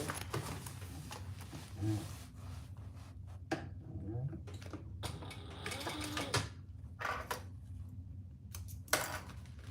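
A sewing machine runs in short bursts while top stitching a triple-zipper project, its whirring mixed with handling noises and soft background voices.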